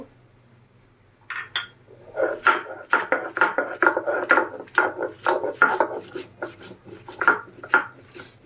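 Onion, garlic and dried chilies ground together by hand, a rhythmic series of close rubbing, grinding strokes on stone, repeating steadily at about two per second with no talk.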